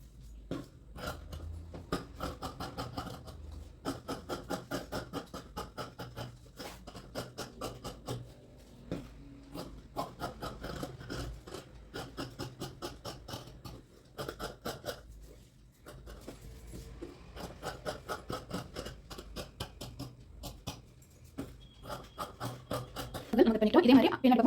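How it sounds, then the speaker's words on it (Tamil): Scissors cutting blouse fabric along marked lines, a steady run of quick close snipping and rasping cuts in short bursts with brief pauses between them. "இப்போ நம்ம இதை கட் பண்ணி எடுத்துக்கலாம்."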